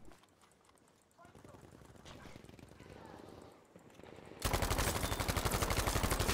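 Tommy gun bursts from Battlefield 5 multiplayer, rapid automatic fire that starts faint and distant, then grows into a loud, steady rattle near the end.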